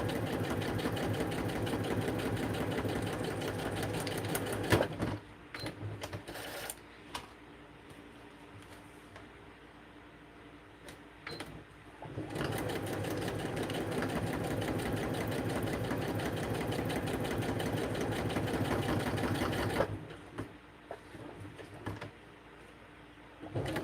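A sewing machine stitches in two long, steady runs of fast mechanical whirring, separated by a quieter stretch of clicks and handling, heard up close.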